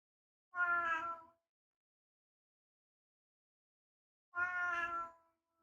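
A cat meows twice indoors, each call long, drawn-out and tonal, separated by a few seconds of silence and heard close and clear with no talking.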